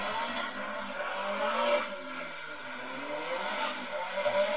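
A Nissan S14 drifting on a public street, its tires squealing in repeated bursts over a steady engine roar, with short skids rising and fading several times.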